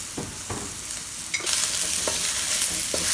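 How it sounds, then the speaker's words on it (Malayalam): Onions with salt being sautéed in a pan, a steady close sizzle broken by repeated scraping strokes of a spoon stirring, growing louder partway through; no talking. "കുറച്ച് ഉപ്പ് ചേർത്ത് ഇതിന് സവോള നന്നായിട്ടൊന്ന് വഴറ്റിയെടുക്കാം"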